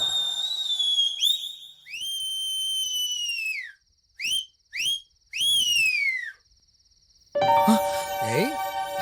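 Person whistling a series of long, loud sliding notes separated by short bursts and pauses, followed by a different tonal sound with background noise at the end.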